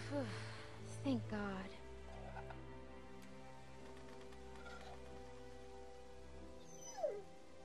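A dog whimpers and yips in short, high, wavering cries near the start and again near the end, fairly faint against a low steady hum and quiet ticking.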